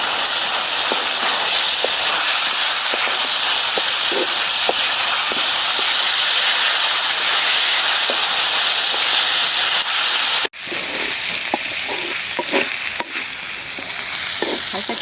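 Potatoes and onions fry together in a pan, making a loud, continuous sizzle and hiss dotted with crackles and stirring scrapes, with a brief break partway through and no talk.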